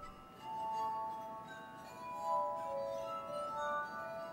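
A glass harmonica, a glass instrument played by rubbing, sounds sustained, bell-like, overlapping tones that shift in pitch. It plays quietly and alone.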